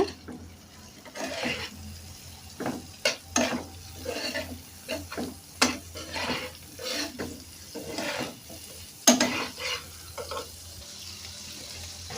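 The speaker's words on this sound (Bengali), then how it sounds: "এখন নাড়াচাড়া করে নিব একটু।" A spatula stirs noodle ingredients and salt in a frying pan, giving a run of uneven scraping strokes and soft sizzling bursts with short pauses between them. No one speaks.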